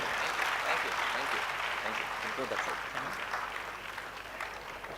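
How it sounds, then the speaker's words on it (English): Audience clapping at a Good Samaritans awards ceremony, a steady wash of applause from the hall with voices mixed in, gradually easing in loudness. "The closing claps can be a lot better as he walks down, right?"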